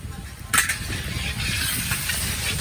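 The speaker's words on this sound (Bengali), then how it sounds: "এই যে আলু ভাজা হচ্ছে এখানে" Potatoes frying in a pan on a home stove, a continuous bright hiss and sizzle with a sharp crackle burst early on, close by and steady throughout.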